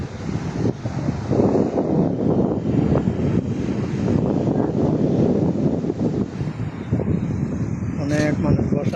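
Steady wind buffets the microphone outdoors at a breezy open spot where many people sit, a continuous low rushing roar with voices talking over it.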